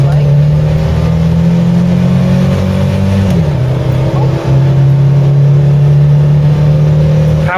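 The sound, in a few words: Ford Cortina Mk5 2.3 Ghia accelerating through the gears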